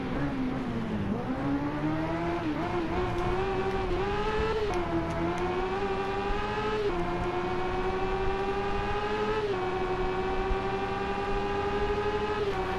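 A Honda CB650F motorcycle engine in a racing video game, held near top speed in sixth gear: a loud, steady high-pitched engine whine that wavers slightly in pitch, with continuous wind-like rushing beneath it.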